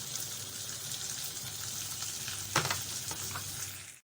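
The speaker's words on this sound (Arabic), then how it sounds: "نزلت باللحمه تتشوح مع التوم والبصل" Meat sizzles in a pan with garlic and onion, a soft continuous frying hiss with a few sharper clinks and scrapes near the end, quiet and with no talking.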